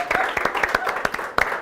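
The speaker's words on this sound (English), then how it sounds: "Another round of applause" A live audience applauding at a talk on couples and sexual communication, a steady burst of many hands clapping with a few sharper claps standing out, loud and close.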